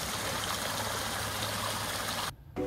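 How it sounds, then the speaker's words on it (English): A steady rushing splash of water spills over stones in a backyard swim pond waterfall, continuous and near, cutting off abruptly near the end. "it pulls up and it escapes into different pockets of the waterfall."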